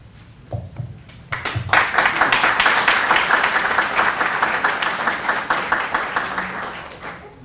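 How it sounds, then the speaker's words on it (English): A room of credit union meeting attendees applauds volunteer committee members: dense, sustained clapping that builds quickly after a brief quiet start and carries steadily to the end, fading slightly near the close. "If you're a member of either of these volunteer committees, would you please stand for a round of applause?"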